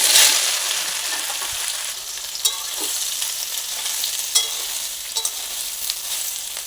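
Soybean chunks frying in very hot oil in a wok, a loud, dense, continuous sizzle with occasional light stirring clicks and no voices.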